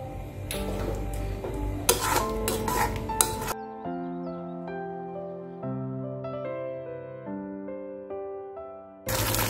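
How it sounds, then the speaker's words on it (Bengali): Spiced masala with yogurt sautés over a gas flame, with busy, close clatter and scraping of a spatula in the pan, then a tuneful music interlude, and the pan noise returning at the very end. "এবার আমি গ্যাস জ্বালিয়ে আবারও এটা কষাতে থাকবো।"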